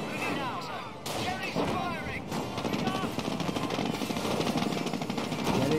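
Dense war video game gunfire rattles without a break, with machine-gun bursts and heavy battle noise filling the mix while voices call out over the combat.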